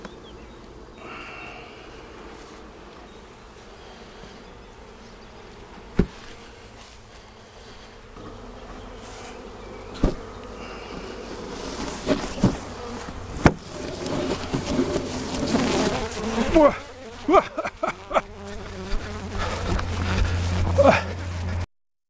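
Aggressive killer bees swarm out of a hive box in a dense, loud, continuous buzz that builds over time, with sharp knocks and thumps on the box and someone talking at intervals.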